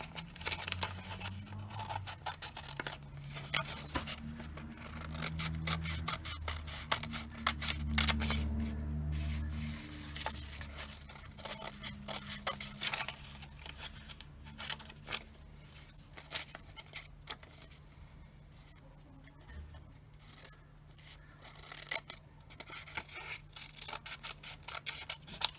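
Scissors cutting a paper triangle along a drawn line, heard as a steady run of close, small snipping and crisp scraping clicks that continues throughout at low volume over a faint hum.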